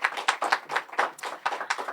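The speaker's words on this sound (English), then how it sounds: "Another round of applause before we end this program." An audience claps at the Season 2 launch of a talent search show in Windhoek, with uneven bursts of clapping rising and falling in quick succession.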